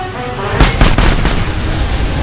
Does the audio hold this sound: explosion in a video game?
yes